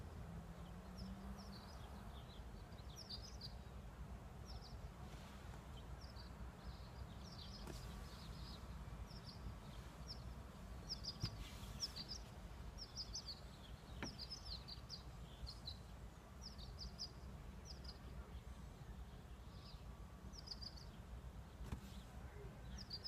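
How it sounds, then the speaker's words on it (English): Birds singing outside in a quiet neighborhood: faint, repeated high chirps and tweets scattered across the whole stretch over a low, steady background hum, distant and soft. "I just wanted to take a moment and see if you can hear the birds"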